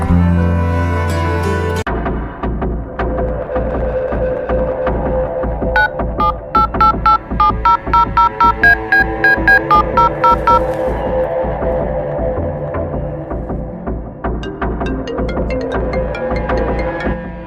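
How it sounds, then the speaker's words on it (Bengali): A mobile phone rings with an incoming call, its loud electronic ringtone pulsing in a steady rhythm with a bright repeating melody in the middle, heard alone without any voices. "সাহেব মফিস ফোন দিছে ধর"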